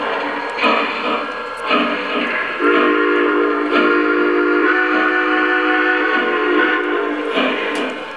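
A Lionel Legacy model steam locomotive runs on a home layout, giving off a steady mechanical rolling hum with a sustained whistle-like tone from the engine's sound system, loud and close throughout, no talking.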